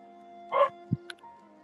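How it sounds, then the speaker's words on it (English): Dogs in a home give a short muffled bark followed by a quick yip and a faint whimper, brief and fairly close, with quiet room tone around them. "Sorry, it's my dogs."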